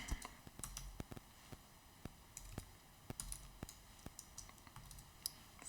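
Rapid, irregular clicks of typing on a computer keyboard, close and fairly quiet, with short bursts of keystrokes and brief pauses over a faint room background.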